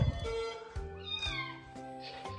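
A neighbour's cat meows close by in a home, several drawn-out rising and falling cries in quick succession, loud and clear with no talk over them.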